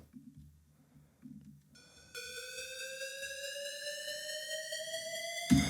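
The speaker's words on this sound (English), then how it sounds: "we've got an extra riser, which sounds like this" An EDM riser synth sweeps steadily upward in pitch after a few soft beats, growing brighter and louder until a sudden hit.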